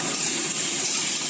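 Chopped onion with ginger and garlic browning in a hot pan for a village-style fish curry, a continuous close sizzle and hiss running evenly throughout with no voices.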